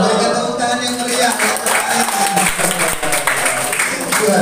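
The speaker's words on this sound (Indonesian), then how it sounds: "Berikan tepuk tangan yang meriah." Lively applause in a classroom, a burst of clapping from students filling the room, mixed with voices and cheers throughout.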